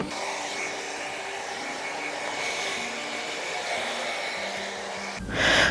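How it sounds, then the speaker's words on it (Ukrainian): A hair dryer drying hair, a steady loud whirring blast of air running continuously, with a brief surge in intensity at the very end. "Голову я посушила."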